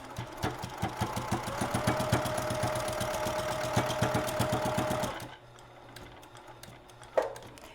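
Sewing machine stitching a minky tag blanket runs in a fast, even rhythmic whir for about five seconds, then stops, leaving quiet with a single sharp knock near the end.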